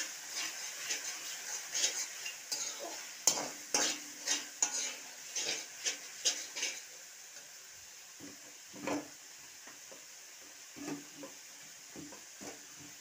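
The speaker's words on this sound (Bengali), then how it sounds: "এই যে দেখুন মশলাটা আমার কষানো হয়ে গিয়েছে, তেল ছাড়ছে" A spoon stirs spice paste with turmeric and salt frying in oil for a snakehead fish curry. Rhythmic clinks and scrapes against the pan sit over a soft sizzle, close and steady at first, then sparser, with no talk.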